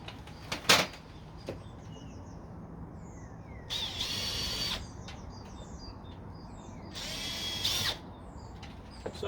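A power drill boring pilot holes into UPVC plastic cladding, two sustained drilling bursts of about a second each with short clicks and handling knocks between, close and moderately loud over faint outdoor background with birdsong.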